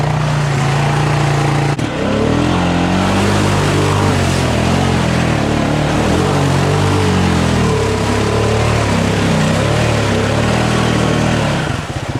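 A Honda Rancher 420 ATV engine revs hard while driving, a loud, close, continuous drone with rising and falling pitch and brief throttle changes throughout.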